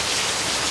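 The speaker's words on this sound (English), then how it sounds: "Lovely rain on this camera" Rain pattering directly onto a camera outdoors on Oahu, a loud, dense and close hiss of drops that fills the brief moment without any voices.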